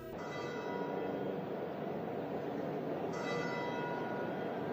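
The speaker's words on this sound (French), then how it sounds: "Les sons de la cloche retentissent." Church bells ring at St. Peter's Square in Rome during the funeral mass for Pope Emeritus Benedict XVI, with sustained resonant peals and a fresh strike partway through, distant and fairly faint over a low crowd murmur.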